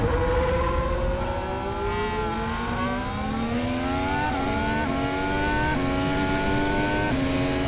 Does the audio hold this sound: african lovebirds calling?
no